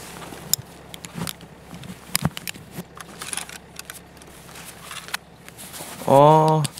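Irregular metallic footsteps clank on a dormitory's outside metal stairs in Escape from Tarkov at a moderate distance, mixed with faint game ambience, ending in a brief tonal chime.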